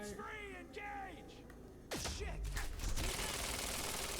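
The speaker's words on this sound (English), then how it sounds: "So if I stack some bullets into that, I've caused a time stutter." Gunfire aimed at a chronon source in Quantum Break: after a stretch of voice-like tonal sound, a burst of rapid shots and heavy impacts breaks out, dense and loud, blending into a continuous roar.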